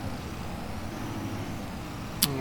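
A farm vehicle in Farming Simulator 25 drones along with a low, even engine rumble, fairly quiet and unchanging, with one sharp short click near the end.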